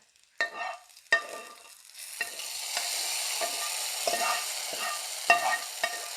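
A hot tempering of dried chilies, curry leaves and shallots is poured into a curry for a buttermilk-free moru curry. It sets off a sudden loud hiss that settles into a steady sizzle, with a few sharp clinks of a spoon or pan.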